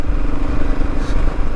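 A Royal Enfield Himalayan motorcycle riding along quiet Cornish country lanes: a loud, steady engine drone mixed with rushing wind and road rumble, close up and continuous, with no talking.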